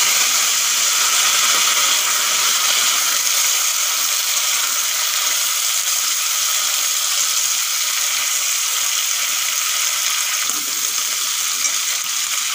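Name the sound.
pumpkin added to hot tempered oil, sizzling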